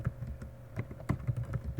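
Rapid clicking keystrokes on a computer keyboard, a short close burst of irregular taps at moderate volume with no voices.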